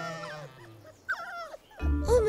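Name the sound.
dogs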